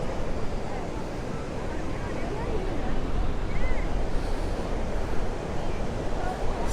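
Surf rolling onto Manly beach in Sydney, a dense, steady wash of breaking waves with wind rumble against the microphone, continuous and fairly loud throughout.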